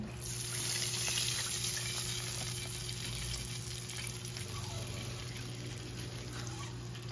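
Steady, loud sizzling and bubbling as water is added to a hot pan of burger steak gravy, a constant frying hiss with faint stirring clinks, no talking.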